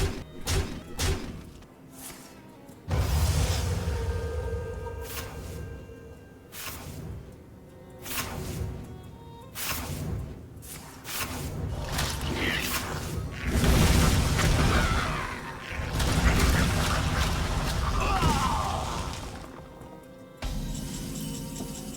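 Explosions and heavy booms burst repeatedly in a video game match as a warlock character fights, with loud thuds and whooshes crowding one another over a constant wash of game effects.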